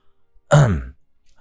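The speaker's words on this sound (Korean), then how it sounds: "제가 크게 헛기침을 하며 다가갔는데요" A single loud, rasping throat clearing, about half a second long, in an otherwise quiet space.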